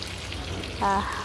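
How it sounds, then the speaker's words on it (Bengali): Fish sizzles in oil in a frying pan as the pieces are flipped, a steady soft crackle with a brief louder burst midway as one turns over. "মাছ এক পাশ খুব ভালোভাবে ভাজা হয়ে গেছে, এখন আমি আরেক পাশ উল্টে দিচ্ছি"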